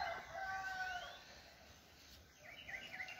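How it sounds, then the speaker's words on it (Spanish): Roosters crowing at daybreak in the countryside, several drawn-out calls one after another, fairly loud over a steady hiss of birdsong and insects, with no talk. "canto de los gallos"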